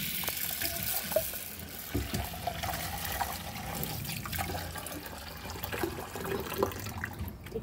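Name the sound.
water poured over lentils to soak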